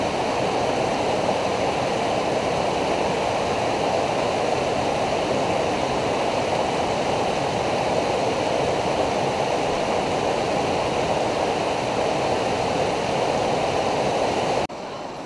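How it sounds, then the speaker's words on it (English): Milk Creek, a mountain tributary off Mount Jefferson, rushes loudly and steadily in a dense, unbroken roar of flowing water close by, with no voices over it. "we just have crossed Milk Creek, one of the tributaries off of Mount Jefferson"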